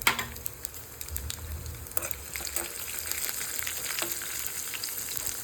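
Green chillies go into sizzling oil tempering for rava dhokla, a continuous soft frying crackle with scattered sharper pops and occasional stirring scrapes, fairly quiet and close.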